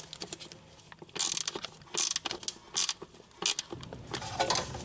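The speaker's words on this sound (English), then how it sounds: "I got all three of those bolts on the bracket tight" A hand ratchet tightens bolts on the intake manifold bracket of a Honda Civic during starter replacement, with sharp, close clicking pawl bursts in several separate runs and short pauses between strokes.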